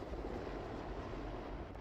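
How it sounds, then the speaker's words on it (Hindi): US Air Force military helicopter, a steady, dense rotor and engine roar that fills the whole stretch without a break, constant in loudness, with no voices. "दरअसल आईएसआईएस के इस काफिले पर अमेरिकी वायुसेना का एक जंगी हेलीकॉप्टर नजर रखे हुए है"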